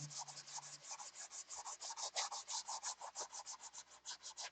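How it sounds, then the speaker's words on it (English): Wood is sanded by hand with steady, rapid back-and-forth strokes, a close, soft rhythmic rasping that repeats evenly throughout. "Watch me sand for an hour."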